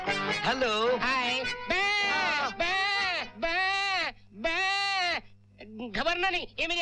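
In a Hindi comedy film scene, a voice imitates goat bleating: a run of loud, wavering bleats in quick succession, close and clear, with short pauses between bursts.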